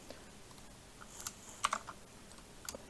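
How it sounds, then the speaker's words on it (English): Light typing on a computer keyboard, scattered quiet key clicks with a few sharper taps in an irregular rhythm, faint and close against a low background hiss, with no voices. "I'm not used to this keyboard yet"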